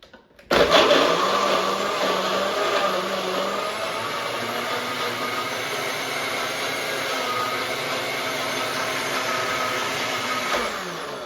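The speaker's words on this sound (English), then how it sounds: "And let's blend everything together." A blender whirs through frozen strawberries, pineapple and half a cup of water for a smoothie. The motor kicks in loud and close after a brief pause, then holds a steady, dense grinding roar to the end, with no talking.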